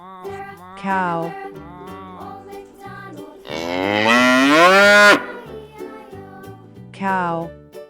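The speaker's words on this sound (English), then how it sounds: "cow" A cow lets out one long, loud moo in the middle, with shorter farmyard calls before and after it.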